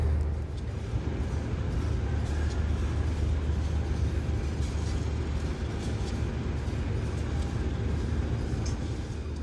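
Argo Bromo Anggrek train from Surabaya Pasar Turi to Gambir entering a station track, a continuous low rumble and rolling wheel noise, steady and fairly loud.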